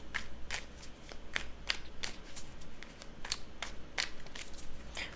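Tarot cards being shuffled by hand, a series of crisp riffling bursts repeating roughly every half second, close and clear with a low steady hum beneath and no talking.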